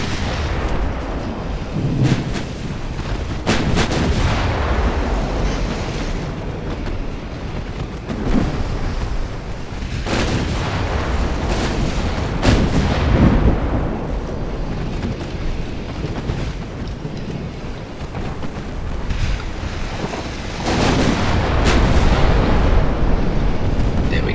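A warship's main gun fires in a naval combat game, a series of heavy booms rolling over a continuous deep rumble, loud and sustained across the whole stretch with no talking.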